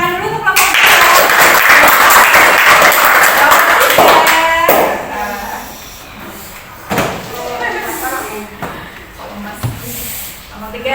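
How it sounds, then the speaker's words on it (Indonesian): A classroom group claps for group 2 during an Indonesian school lesson: a dense, loud burst of applause for about four seconds, then it fades into a teacher talking with scattered classroom noises. "kita beri tepuk tangan dulu untuk kelompok 2."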